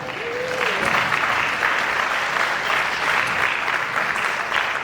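Audience applauding a $5,000 pledge at an awards gala, steady dense clapping that holds for the whole stretch, with a brief voice rising at the start.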